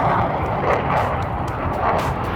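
Military reconnaissance airplane with missiles and machine guns, its engine giving a loud, steady broadband roar that holds without a break throughout.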